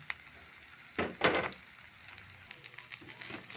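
Garlic sautéing in a pan, a low crackling sizzle with a couple of louder bursts of frying as it is stirred, close and without talk.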